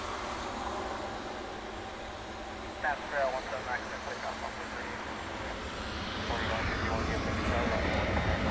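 A departing airliner at DFW International Airport gives off a broad, steady jet roar that swells toward the end, with faint voices mixed in.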